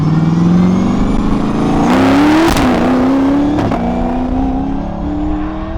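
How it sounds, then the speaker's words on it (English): An 850 HP Chevy C10 race truck with a sequential transmission roars loudly through a Borla stainless exhaust, its pitch climbing between gear shifts with sharp breaks and pops. "it sounds vicious, especially when you're shifting gears and shooting flames about a foot out the exhaust"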